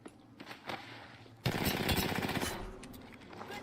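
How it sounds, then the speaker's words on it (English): Rapid automatic gunfire in the video game Apex Legends bursts in loudly after quiet background noise, a fast rattling stream of shots that tapers off toward the end. "Getting shot at."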